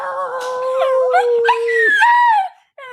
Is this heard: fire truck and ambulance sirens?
no